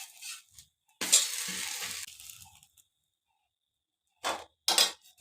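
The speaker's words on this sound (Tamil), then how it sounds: "தோசை ஒரு சைடு வெந்துச்சு." A dosa made from puffed rice, coconut and raw rice cooks on a pan, with short bursts of sizzling and crackling separated by quiet gaps.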